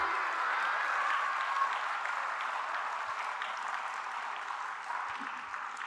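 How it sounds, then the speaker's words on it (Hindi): Steady clapping from an audience at a religious discourse, fairly soft and continuous, slowly fading a little over several seconds. "बजाइए ताली।"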